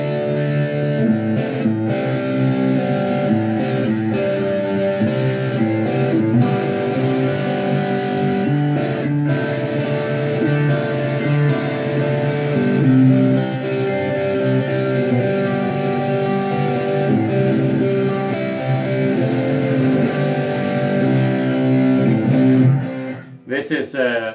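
An electric guitar played through a Blackstar amp on a crunchy distortion setting rings out as loud sustained chords and riffs for over twenty seconds, ending in a brief rattle.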